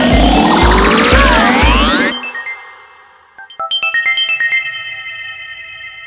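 A phone rings with a melodic ringtone for an incoming video call, repeating in loud pulsing bursts, then a second chiming ringtone sounds in bright rapid notes.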